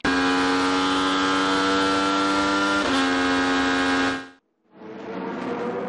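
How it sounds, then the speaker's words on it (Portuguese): IndyCar race cars at Road America in a 2022 race scream past at full throttle, a loud sustained high engine whine with a pitch drop, a brief gap, then another car roaring by. "O som e a fúria da Fórmula Indy."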